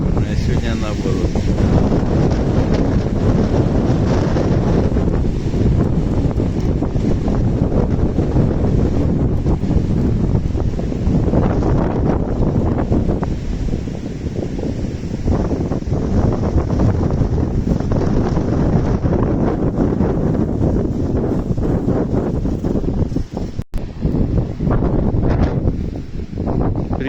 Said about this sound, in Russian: Хороший такой ветерок с севера.